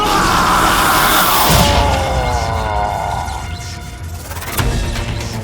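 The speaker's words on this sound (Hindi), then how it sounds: "ये चीखें सुनाई दे रही हैं।" Several people scream in a loud, drawn-out chorus of wavering cries during a superhero drama scene, with low booming rumbles beneath and a sudden sharp hit near the end.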